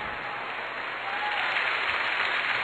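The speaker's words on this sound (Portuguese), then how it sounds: "Pode aplaudir, é muito bom." A church congregation applauds during a sermon by a Catholic priest, a steady wash of clapping from a sizeable crowd that swells slightly toward the end, with no voices over it.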